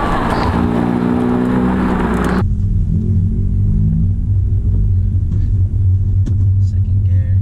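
A Honda Type R is driven along in second gear, its engine giving a loud, close, humming rumble with steady tones that shift abruptly partway through, then settle into a lower, even drone.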